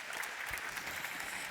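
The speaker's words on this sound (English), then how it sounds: "A warm applause." An audience at a sustainability lightning-talk event applauds softly and evenly for a second and a half, with a faint murmur of crowd behind the clapping.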